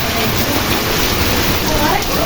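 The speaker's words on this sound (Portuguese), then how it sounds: "É a chuva." Rain driven by strong wind during an afternoon storm in the Pernambuco sertão, a loud, dense, continuous hiss and rush close by, with a voice talking over it.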